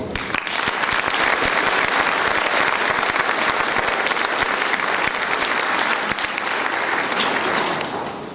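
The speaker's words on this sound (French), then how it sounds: "tous nos applaudissements" Sustained audience applause at a French New Year's greetings ceremony following a speech, a dense, even wash of many hands clapping for about eight seconds before tapering off slightly.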